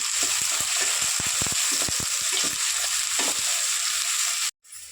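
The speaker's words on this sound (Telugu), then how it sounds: "ఒక 2 ఉల్లిగడ్డలు, 4 పచ్చిమిరపకాయలు ఫ్రై చేసుకుందాం." Two onions and four green chillies sizzle steadily in a hot pan, a dense frying hiss broken by short stirring scrapes and clinks, close and loud, before cutting out abruptly near the end.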